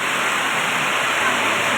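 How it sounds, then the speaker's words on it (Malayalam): Heavy rain pours down on a forest area in a dense, steady roar of broadband noise, loud and close, with no break. "നല്ല മഴയാണ് ഗൈസ് പെയ്യുന്നത്"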